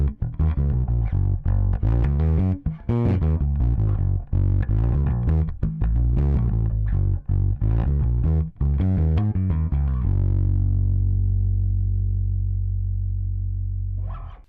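Electric guitar run through a Line 6 Helix amp block, with power tube distortion adding harmonic grit. It plays a busy riff of loud chords and notes for about ten seconds, then ends on a sustained ringing chord that fades out.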